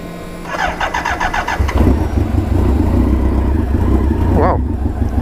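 Motorcycle engine cranking and catching after five months in storage: rapid starter chatter, then a steady mid-pitched idle, close and loud.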